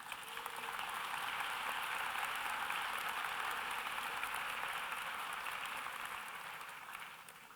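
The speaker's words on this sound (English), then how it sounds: "You might want to applaud your family," Sustained applause from a large audience at a 2023 health professions commencement as they applaud the graduates' families, a dense, even patter like heavy rain that swells, holds steady and slowly tapers, heard from a distance.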